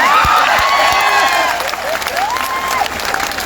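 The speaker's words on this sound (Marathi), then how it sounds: "जोरदार टाळ्या वाजवा" A rally audience applauds its speakers with loud, dense clapping that fades somewhat midway and continues, while a voice on a loudspeaker talks over it.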